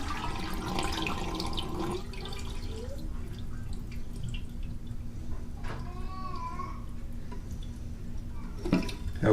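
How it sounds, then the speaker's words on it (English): Water is being emptied out of a bathroom vanity during a repair, heard as quiet, close drips and small trickles that splash intermittently over a soft background hum. "Get all that water out of there"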